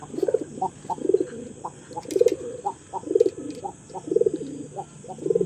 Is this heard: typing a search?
no